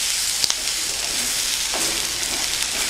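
Salted onions frying in oil for brinjal curd curry, a continuous close sizzle with a couple of small clicks from stirring, no talking.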